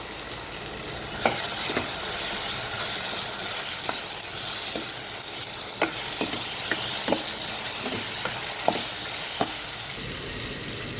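Bitter gourd pieces frying with softened tomatoes in a pan for a tamarind kuzhambu, giving a steady close sizzle broken by repeated scrapes and taps of a spoon stirring, with no talking.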